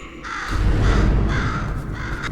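A bird in the video game Portal 2 gives a single harsh, drawn-out caw, loud and up front over a low background rumble, with no speech.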